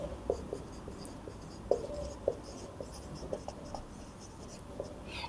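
A pen writes out a maths solution with soft, close scratching strokes and a few sharper taps, scattered irregularly across a quiet background.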